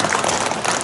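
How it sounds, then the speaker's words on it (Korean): A brief burst of dense audience clapping at a lecture event for a local Korea Freedom Federation branch, loud and continuous for under a second. "다시 한번 큰 박수 부탁드리겠습니다."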